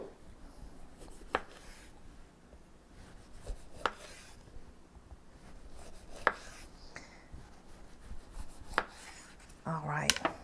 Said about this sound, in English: we're going to go ahead and slice up this avocado